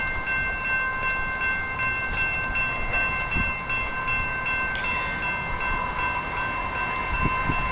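Northstar commuter train approaching, a steady loud rumble of rail noise with a faint high tonal whine, heard continuously and fairly close outdoors with no talking.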